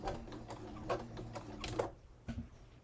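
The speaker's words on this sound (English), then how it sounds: "And again, I'm sewing very close." A sewing machine stitches very close to the edge of a thrifted man's shirt being remade into a peasant shirt, running in short rhythmic bursts up close with brief pauses and no talking.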